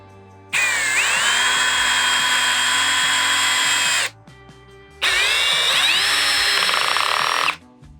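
A Procraft PA12BL brushless cordless drill-driver, running at first speed with a socket in the chuck, whirs loudly in two sustained bursts, each spinning up and holding a steady high whine before stopping, with a short quiet gap between.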